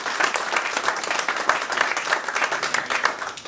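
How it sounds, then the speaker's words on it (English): A room full of people claps for Matt Barkes, CEO of ISN Coins, at an introduction event in the United Kingdom. The applause is brisk and continuous and swells slightly in places over a few seconds. "So can we give a good round of applause to Matt Barkus?"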